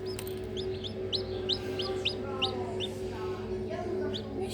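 Newly hatched chicks peep in quick high repeated chirps while a hen clucks low nearby, over a constant hum of machinery.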